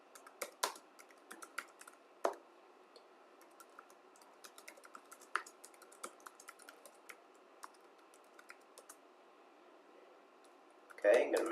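Quick clicks on a computer keyboard while entering Git Bash commands, faint irregular keystrokes in short bursts over a quiet background, with a brief louder sound at the very end.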